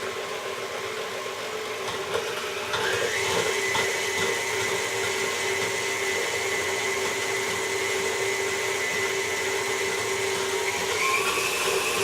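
An electric mixer whirs steadily while blending thick buttercream ingredients, a constant close motor drone with a slight pitch rise partway through, no voices over it.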